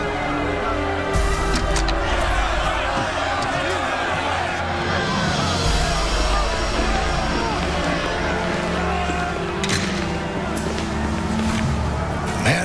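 Loud, restless crowd noise from a hostile gathering during the Mississippi desegregation standoff, a dense continuous roar of shouting and babble lasting throughout with occasional sharper bursts.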